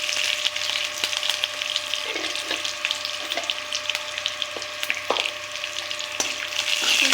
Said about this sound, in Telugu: కొత్తిమీర కూడా కొంచెం వేసుకొని ఫ్రై చేసుకోవాలి.